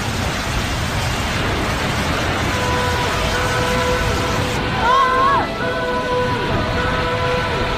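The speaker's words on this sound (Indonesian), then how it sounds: "Hujan bertambah lebat, petir menyambar tiba-tiba membawa air besar yang datang" Heavy rain pours during a flood drill simulation at an outdoor preparedness event, a loud steady broadband wash with a faint thunder-like swell, and thin tonal sounds drift through partway.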